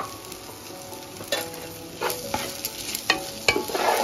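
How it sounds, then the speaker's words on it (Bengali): Rice fries in a pan with cumin and spices over medium heat, a soft sizzle punctuated by several sharp spatula stirs and scrapes that grow busier toward the end, close up, no voices. "আমি এখানে চাল ভেজে নিচ্ছি"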